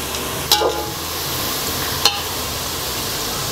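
Chopped onions softening in a pan with oil for prawn biryani, a steady close-up sizzle with two brief stirring clatters of a spoon against the pan.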